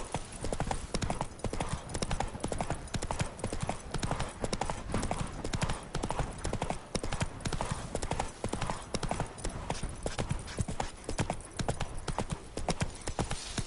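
Roach the horse trots along in The Witcher video game, its hooves clip-clopping in a steady, continuous rhythm close by, with a brief spoken line over the top.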